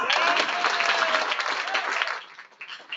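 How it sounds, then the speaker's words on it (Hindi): At a kavi sammelan poetry recital in Budh Vihar, an audience gives a burst of loud, dense applause that fades out within about three seconds. "आप लोगों को तालियां बजानी ही होगी"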